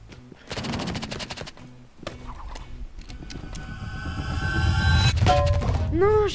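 Uzi gunfire in the shooter game Rivals breaks out in rapid bursts over a busy mix of game effects and rumbling, with sharp chirping tones near the end and no voices.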